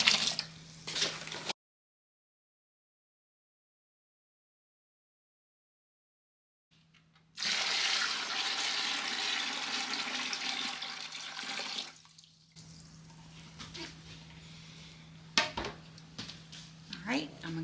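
Cold water from a tap gushes steadily into a bucket of soda ash solution for several seconds, loud and close, then drops to a softer trickle with a few clanks, after a brief stretch of silence.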